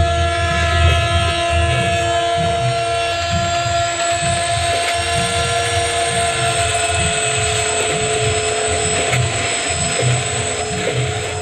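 A WDP4D diesel locomotive hauling an express train in Trainz Simulator passes with a loud, continuous engine drone, sustained tonal hum and rhythmic rail clatter, no speech.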